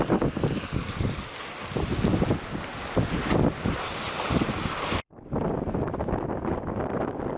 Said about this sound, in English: So the winds have picked up to about 25, consistently at 25, and the waves have picked up in size